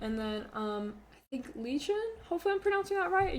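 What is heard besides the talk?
None of the usual background noises is heard.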